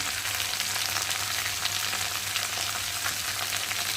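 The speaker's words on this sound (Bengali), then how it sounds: "ভালো করে মশলাটা দিয়ে কষিয়ে নেব" Ground cumin, ginger paste, green chilli, turmeric and salt sauté in a pan for a Malabar spinach chorchori, giving an even, close crackling sizzle with a low steady hum beneath and no voices.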